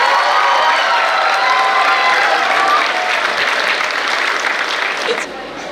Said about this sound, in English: Please put your hands together for Group Captain Shubhanshu